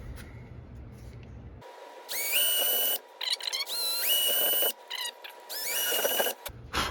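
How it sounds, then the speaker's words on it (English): A power drill whines in three loud bursts while drilling holes in a model railroad layout table, each rising in pitch as it spins up, with short pauses between and a low hum underneath. "So I'm going to drill 3 holes right now."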